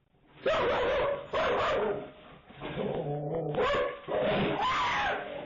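A dog out on a walk barks loudly and urgently in several close bursts, with yipping, whimpering tones between them.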